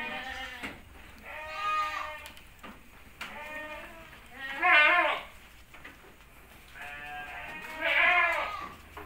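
Saanen dairy goats on a farm bleat in a series of loud, wavering calls, several separate cries rising and falling with short pauses between them, nearby and clear.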